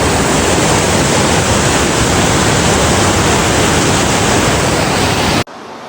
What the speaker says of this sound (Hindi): देखो अलकनंदा नदी बहती हुई, और नदी की जो आवाज़ आ रही है ना भाई